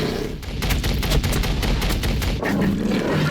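Gunfire in a Warhammer 40K game with Chaos Space Marines of the Black Legion: a rapid, loud fusillade of sharp shots in quick succession, then a short pause and a renewed burst.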